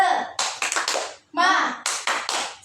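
A class of young children claps in a spirit-clap routine, several short bursts of clapping in a rhythmic pattern alternating with children's and a teacher's voices.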